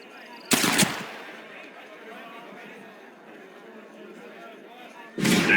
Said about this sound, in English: Let's just see how sharp you is with a moving target. Get ready to shoot that hat.